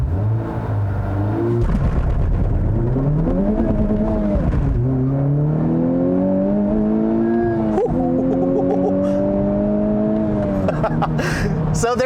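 A 2020 Honda Civic Type R, a front-wheel-drive hot hatch, accelerates hard through several gears, its engine note climbing steadily with brief dips at each shift, loud and continuous from inside.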